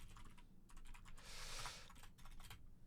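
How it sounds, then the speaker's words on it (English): Fingers type on a computer keyboard in quick, uneven bursts of keystrokes. The clicks are quiet and close, with no voices. "Actually, I like typing them all"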